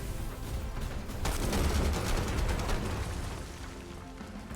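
Weapon fire from mech units in the tactical game Phantom Brigade, a dense burst of shots and impacts swelling into a sustained rattling barrage before easing off, fairly loud with no voices over it.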